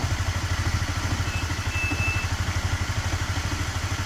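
A Honda CB150 motorcycle engine idles nearby with a steady, rapid pulsing thrum and a slight roughness, running alone without talk.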